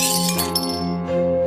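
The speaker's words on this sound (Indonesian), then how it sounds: "Suatu malam, suara pecahan terdengar dari dapur." A glass cat food bowl shatters on a kitchen floor: one sharp crash followed by bright ringing shards and a second smaller clink, loud and close, with no voices.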